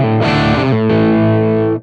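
Distorted electric guitar through a Fractal amp preset and an Orange 4x12 cabinet miked with a dynamic microphone, two heavy chords struck in quick succession, thick and close, ending abruptly.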